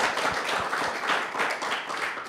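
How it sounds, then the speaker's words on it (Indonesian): Applause from an audience at a junior high school event in Palangka Raya, a short, steady burst of many hands clapping at close range. "Tepuk tangannya mana?"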